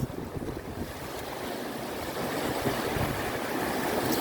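Sea waves washing onto a stony beach outdoors, a continuous broad rushing wash mixed with wind buffeting the microphone, swelling slightly louder midway, with no voices.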